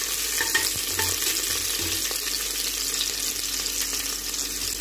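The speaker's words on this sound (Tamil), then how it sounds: "ஆயில் நம்ம நல்லா ஃப்ரை பண்ணிக்கலாம்." A cinnamon stick and a clove fry in hot oil, a steady, dense, close sizzle that stays even throughout with a few faint knocks beneath it.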